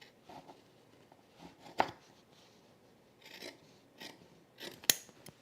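Scissors snip through a men's jeans seam close to the yoke, giving several quiet, irregular cuts, with two sharper, louder snips standing out.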